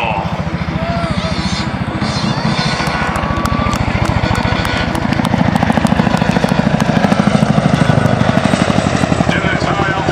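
A CH-47 Chinook twin-rotor helicopter at an airshow beats with a loud, steady rapid rotor thump and engine whine close by, while an announcer talks over it.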